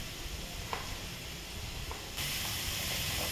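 Chopped onions sautéing in a pan for a mushroom gravy give a steady, soft sizzle and hiss that grows a little louder partway through, with a few faint stirring clicks and no talking.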